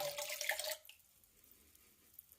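Trichodermin liquid fertilizer pours out in a short splashing stream that stops abruptly, followed by a few faint drips in a quiet room.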